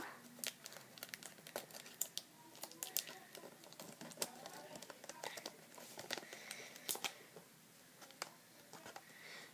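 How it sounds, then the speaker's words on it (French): Small pieces of sticky tape handled and pressed onto paper during a craft project, soft close crinkles, taps and brief peeling rips scattered irregularly, faint and quiet with no talking. "je vais mettre un petit bout de scotch pour relier tout ça"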